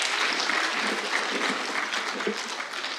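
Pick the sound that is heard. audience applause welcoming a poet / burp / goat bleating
audience applause welcoming a poet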